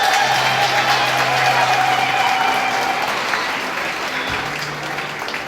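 Gala audience at a JAHJAH Foundation fundraiser applauding steadily, a loud, dense wash of clapping that holds strong then eases slightly toward the end, with a faint tone humming beneath.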